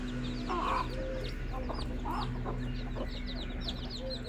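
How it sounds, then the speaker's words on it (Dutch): Young chicks, part of a mixed flock of fourteen including a Brahma, cluck and peep continuously close by, with a steady low hum running underneath throughout. "Er zijn 14 kuikens totaal."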